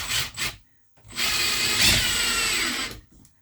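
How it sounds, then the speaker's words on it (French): Power drill driving screws into wood: two short whirring bursts, a pause, then one longer sustained run that winds down and stops. "Et là, je visse."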